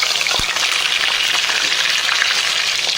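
Green chillies and ginger-garlic paste frying in a pan for a fish tamarind curry, a loud dense hiss of hot oil that runs steadily throughout, no voices.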